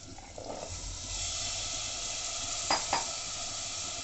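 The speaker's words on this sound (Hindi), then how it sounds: "इसमें अब मैं शलजम के जो टुकड़े मैंने काट के रखे हैं वो मैं डाल दूंगी।" Turnip pieces land in spice paste in a hot pan on a low gas flame, giving a steady soft sizzle with a couple of brief stirring knocks.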